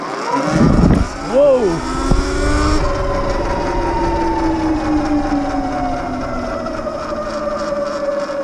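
A Sur Ron Light Bee electric dirt bike pulls away in sport mode with a loud, close, high electric-motor whine that sweeps up and then holds steady, while a rider briefly exclaims at the start.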